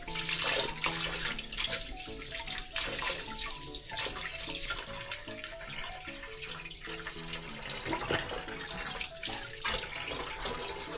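Tap water runs steadily while a large grouper is rinsed and its bloodline cleaned in a Hong Kong market, a continuous splashing stream with faint clinks and background music, no voices.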